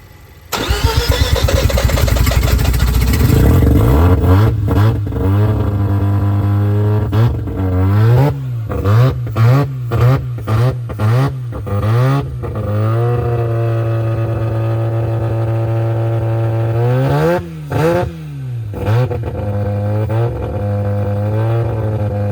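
A rebuilt Mazda RX-7 rotary engine cranks and catches, then settles into idle and is revved repeatedly in short bursts, loud and close, with no talking.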